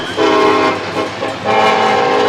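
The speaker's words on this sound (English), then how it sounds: "we hear one of those trains rolling through Vale, sounding their horn" A train rolls through a town near a high school football game, its horn blaring in two loud sustained blasts separated by a short dip, with no talk over it.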